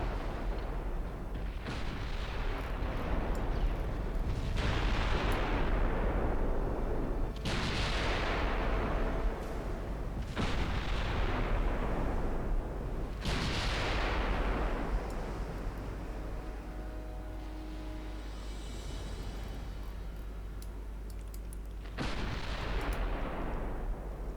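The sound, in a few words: naval gunfire from the video game Ultimate Admiral Dreadnoughts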